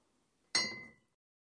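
A single bright clink of glasses touching in a toast, sharp and close, ringing briefly before fading into silence.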